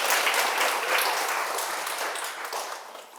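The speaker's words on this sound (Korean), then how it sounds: "큰 박수 한번 부탁드립니다." An audience claps together at a Buddhist Sunday dharma talk, a dense, steady wash of applause that fades gradually over a few seconds, with no voices over it.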